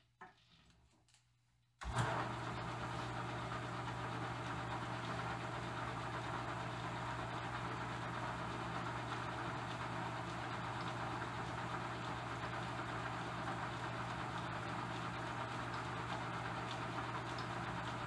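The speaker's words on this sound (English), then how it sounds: "put it back into slower speed and then run the carriage across on the lead screw" Vintage Bertram lathe running with its carriage driven along the lead screw at slow speed, a steady mechanical hum and whir that starts abruptly after a brief quiet moment and continues evenly throughout.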